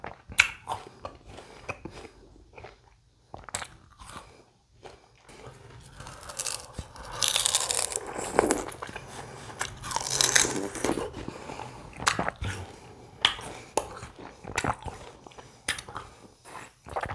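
Raw sugarcane is bitten and chewed close to the microphone, with irregular crunchy, fibrous cracks and wet chewing that grow denser and louder midway, then keep going in scattered bites.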